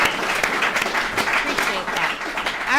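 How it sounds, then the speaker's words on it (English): At a recovery services alumni meeting, the room gives Justin another brief round of applause, a dense burst of clapping that lasts under three seconds with voices mixed in. "Let's give Justin another round of applause."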